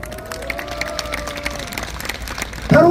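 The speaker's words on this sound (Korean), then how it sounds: "힘차게 응원의 박수를 보내주십시오." Crowd applause at a workers' general strike rally in Korea, 2023, a steady patter of many hands clapping outdoors with a faint tone over it, and a loud voice breaking in at the end.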